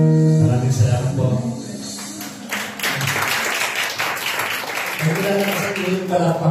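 Brief applause from an audience between stretches of talk, a short burst of clapping that fades as a voice resumes speaking.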